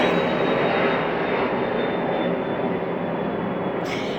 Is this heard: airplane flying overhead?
yes